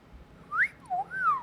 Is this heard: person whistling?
yes